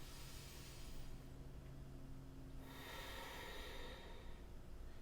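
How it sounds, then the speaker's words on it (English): Deep breath drawn in during a seated chair yoga practice, then a longer, louder airy exhale, both soft and close with faint room noise underneath. "Take a deep breath in and exhale. One more big breath."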